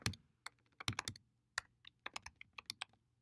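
Keys clatter on a computer keyboard while a command is typed into a terminal, giving irregular bursts of crisp clicks with short pauses between them and no talking.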